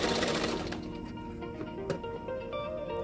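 A sewing machine stitches blouse fabric with a steady, fast mechanical whirring rattle that runs throughout, close and fairly loud, with a few small clicks.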